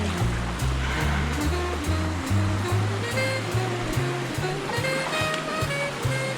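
Water rushes steadily at a waterfall in Maine, a loud continuous roar close by, with music playing over it and no clear talk.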